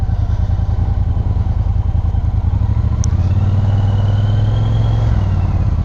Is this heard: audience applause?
no